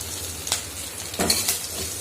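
Green chillies sauté in a pan with urad dal and curry leaves, a soft continuous sizzle broken by a few brief spatula stirs and scrapes against the pan, close and fairly quiet, no talking.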